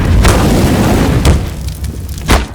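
A Molotov cocktail in a video game bursts into flames with a loud, heavy boom, then further booming whooshes of fire follow over a dense roaring rumble.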